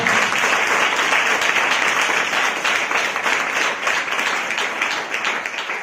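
A church congregation claps together in thanks during a Christian service, a dense, continuous wash of applause that fills the room steadily and loudly throughout with no break.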